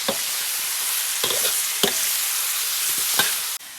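Lamb spine pieces fry in a hot wok with bean paste, chili oil and spices, giving a loud steady sizzle broken by several sharp scraping stirs.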